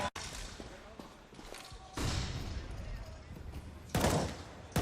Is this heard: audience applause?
no